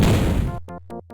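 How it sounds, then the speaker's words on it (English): Shotgun firing in the side-scrolling game Vectorman, a loud crashing blast that decays abruptly, followed by a few short clipped electronic hits. "Oh, that is the sound of a shotgun."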